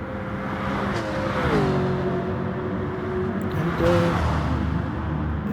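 A racing car engine in a video game community race on a Tokyo track drones steadily near the listener, its pitch sliding down as the car slows for a hairpin, then holding and shifting again.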